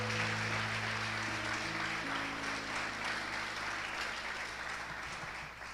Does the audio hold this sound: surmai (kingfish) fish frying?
no